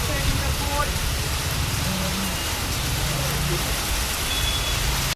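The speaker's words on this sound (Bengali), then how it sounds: "এখানে দাঁড়িয়ে পড়েছি, বৃষ্টি পড়ছে।" Heavy rain pours steadily on a Kolkata street during Durga Puja pandal hopping, a dense continuous hiss close around, with faint traffic and a few distant voices underneath.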